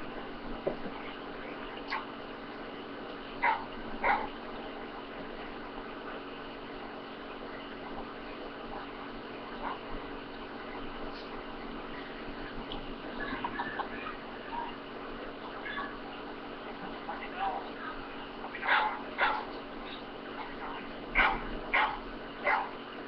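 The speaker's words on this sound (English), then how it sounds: "my dog reacting to other dogs bark" A dog reacts to other dogs barking, with repeated barks and yips scattered over a steady background hiss, moderately loud, with a cluster of sharper barks near the end and no speech.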